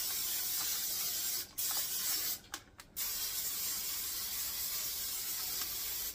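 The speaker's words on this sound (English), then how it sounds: "Now I'm going to spray the inside of it." A long continuous hiss of cooking spray inside a pan close by, broken by one short pause and a few quick stuttering gaps, then steady spraying again.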